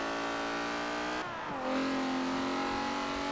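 A slow car is pushed hard around the Nürburgring in Forza Motorsport 7, its engine droning at high revs, dipping briefly through a quick gear change, then climbing again with a steady, buzzing tone.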